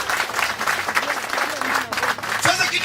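Crowd at a political rally in Kenya clapping loudly and continuously at close range, with a speaker's voice cutting through the applause.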